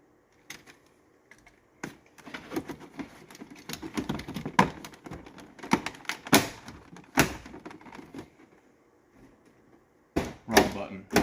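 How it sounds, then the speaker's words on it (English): Power door lock actuator in a Ford F-series or Bronco truck door gives several sharp mechanical clunks and clicks in bursts, with quieter rattling handling noises between them. "The door lock worked."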